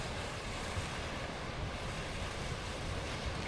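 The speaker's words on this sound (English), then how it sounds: "Sand and rocks, and this one has a bit more waves" Ocean surf at Back Beach, Port Neill, on the coast of South Australia, a steady broadband wash of breaking waves and wind rushing without pause, loud and close throughout.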